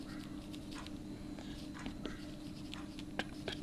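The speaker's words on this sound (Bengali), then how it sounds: "প্রথম বাক্যটা আমি লিখছি" A sentence is handwritten in a classroom lesson, with faint scratchy pen or chalk strokes in short bursts over a low steady hum and no voices.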